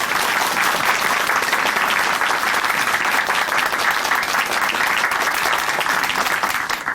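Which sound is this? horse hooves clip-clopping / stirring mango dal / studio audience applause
studio audience applause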